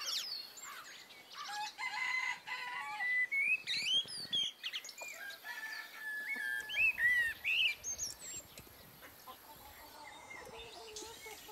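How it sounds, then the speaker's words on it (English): Crows cawing, a big flock in a wooded area, mixed with chirping songbirds, mourning doves and other calls, a busy outdoor chorus of repeated birdsong at varying distances, no talking. "I hear a big flock of crows over there in the wooded area."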